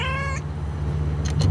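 A single short, clear cat meow in the video game Night in the Woods, followed by a faint brief squeak, over a steady low electronic hum.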